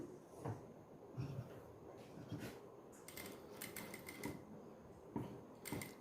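Sewing machine top-stitching along a scallop-shaped neckline, a quiet mechanical clatter in short bursts with small knocks and pauses between runs.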